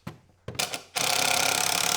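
A power drill bores pilot holes into the end grain of plywood for screws while a wildlife nest box is assembled. A few short knocks come first, then the drill spins up into a steady, loud whir that runs to the end.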